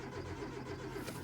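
A Hyundai Accent engine cranks without starting, with an uneven, slightly lumpy compression rhythm. The starter churns loud and steady throughout, with no voices over it.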